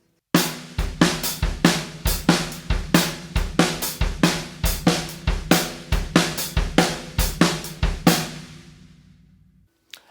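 A drum kit plays a steady groove, snare and bass drum locked with a continuous eighth-note hi-hat, loud and close for about eight seconds before stopping and ringing out.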